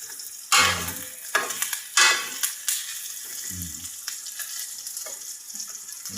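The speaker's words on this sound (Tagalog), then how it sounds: "yung sahog niya, ginigisa natin. Ginigisa ko guys" Garlic, onion and other ingredients for adobong sitaw sautéing in a pan, a bright sizzle punctuated by several sharp metallic spatula scrapes and taps, close and uneven in rhythm, no talking.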